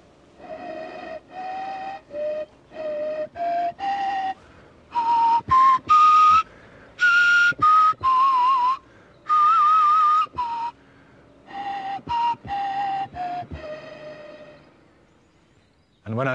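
Reconstructed ancient flute of mammoth ivory or bird bone playing short tunes: breathy, whistle-like tones in clipped phrases, rising and falling in pitch with small wavers, close and clear with pauses between notes.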